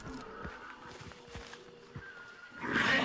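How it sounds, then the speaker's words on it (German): A horse neighs faintly in the distance in the game Hunt: Showdown, mixed with soft scattered thumps and low ambient rumble, before a louder rushing noise swells at the end. "Pferd ist aber in der Nähe"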